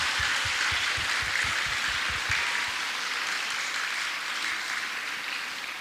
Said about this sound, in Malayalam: അവർക്ക് നല്ലൊരു കയ്യടി കൊടുത്തുകൊണ്ട് ഓർച്ചിഡ് ഗ്രൂപ്പിനെ നമുക്ക് അനുമോദിക്കാം